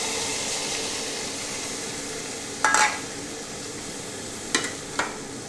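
Onion, tomato, green chilies and mustard paste frying in a pan before fish is added, a steady soft hiss of sizzling oil with a few brief scraping stirs.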